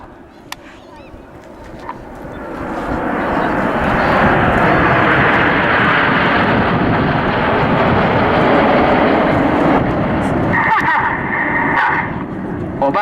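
Red Arrows jets flying in formation at the Southport Airshow 2015 build into a loud, broad roar that holds steady before easing slightly, with a few faint background sounds.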